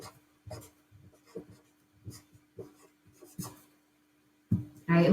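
A pen writes on paper while a lens ray diagram is labeled: short, scratchy strokes in quick separate bursts, close and fairly quiet, ending with a louder rustle.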